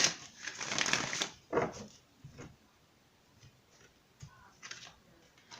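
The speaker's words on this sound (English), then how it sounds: "let's go ahead and give it one more shuffle here" A tarot deck is shuffled close up in a few quick riffling bursts, loudest at the start, followed by softer card taps and rustles in a quiet room.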